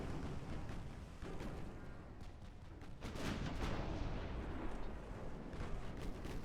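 Battleship turret guns fire in the naval video game Ultimate Admiral Dreadnoughts, a run of booms and rumbling blasts heard faint and distant. The firing thickens into a heavier salvo midway through.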